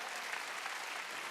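A church congregation at a Korean Wednesday worship service claps hands together, a brief, faint, steady patter of many hands heard from a distance.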